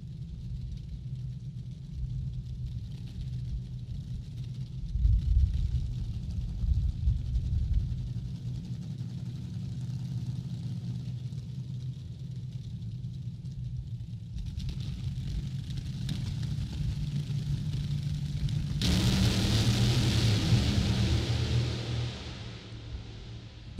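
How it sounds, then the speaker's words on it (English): A pair of Top Alcohol Dragsters in a qualifying round at a national drag racing event makes a sustained, heavy engine rumble that swells into a louder, brighter roar as the cars race down the strip. "Todd Bruce, Buddy Domingue, first pair down, round number three, final round of qualifying in Top Alcohol Dragster"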